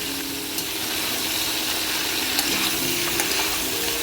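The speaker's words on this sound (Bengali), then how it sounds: "এবার আমি নুনটা দিয়ে মিশিয়ে নিচ্ছি, ভালো করে ভেজে নেব নুনটা দিয়ে" Mixed vegetables fry with salt in a pan for a vegetarian Bengali curry, a constant close hissing sizzle with faint scraping and a steady underlying hum throughout.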